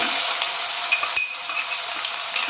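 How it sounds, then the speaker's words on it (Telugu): Green chillies frying in hot oil with ginger garlic paste for gongura chicken, a steady close sizzle with soft stirring scrapes and a couple of light clinks of utensil on the pan, no voices. "పచ్చిమిర్చి బాగా వేగింది"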